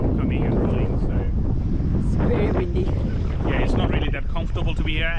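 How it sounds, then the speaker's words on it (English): Heavy wind buffets the microphone in a steady, loud roar on the Logan River while fishing for bream, with splashing water and a voice partly buried underneath. "It's very windy."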